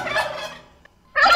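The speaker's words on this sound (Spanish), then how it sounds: "el guajolote le hace así" A turkey gobbles in a short, loud warbling burst in a children's song about Noah's ark, followed by a brief pause and then the start of a second gobble.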